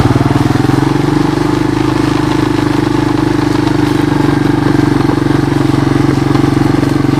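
The engine of a 1986 Honda TRX200SX ATV runs after a cold start: a loud, steady close-up drone with a fast regular pulsing throb that holds constant throughout, with no talking.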